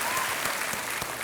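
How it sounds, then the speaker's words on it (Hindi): A short burst of studio audience applause welcoming a contestant on a televised quiz show, dense and even clapping at moderate level. "एक बार तालियों के साथ उनका हम स्वागत करते हैं।"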